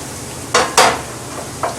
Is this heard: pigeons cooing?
no